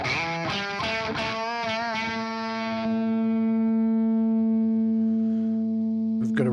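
Electric guitar run through the OVERLOUD TH-U amp simulator with extra drive dialed in, a few picked notes and chords at the start ringing out into a long sustained, slightly distorted chord that holds to the end, loud and alone.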